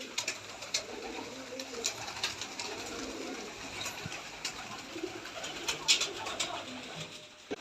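Pigeons kept in a loft coo in soft, repeated low phrases, fairly close, with light flutters and small clicks scattered between the calls.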